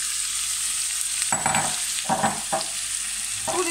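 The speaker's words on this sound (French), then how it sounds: "Quand l'huile est bien chaude, je viens mettre mes oignons" Onions frying in hot olive oil, a continuous bright sizzle close up with several short bursts as a utensil stirs them around the pan, no talk.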